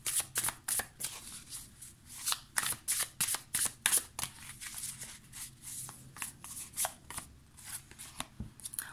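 A Muse Tarot deck is shuffled by hand in a quick run of crisp, papery riffles and slaps, dense bursts early on giving way to softer, steadier card rustling, close and fairly quiet with no voices.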